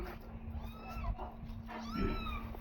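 A cat meows several times close by, thin rising and falling cries at moderate volume over a low steady hum, with no voices.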